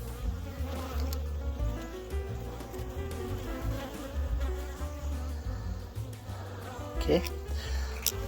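Honeybees buzz around a yellow-marked queen in a five-frame nucleus hive, a dense, continuous close-up hum with scattered clicks and handling noises and no clear talking over it.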